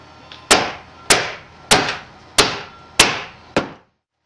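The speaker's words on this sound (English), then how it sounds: "So put the lid on and just hammer it down." Six sharp, evenly spaced hammer blows drive a plastic lid down onto a storage bucket, each ringing briefly before the next strike.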